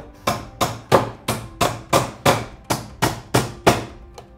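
A fiberglass hammer drives nails to fasten an electrical work box to wood framing: eleven sharp, loud, close strikes in an even rapid rhythm, with no talk.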